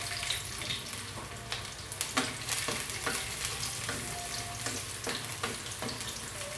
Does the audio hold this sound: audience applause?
no